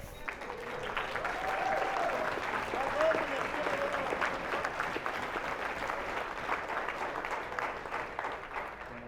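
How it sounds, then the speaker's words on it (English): An audience at a Ken Paxton campaign event gives a round of applause, a steady, moderately distant patter of many hands with a few voices mixed in, sustained evenly for several seconds. "We'd like to give you a round of applause."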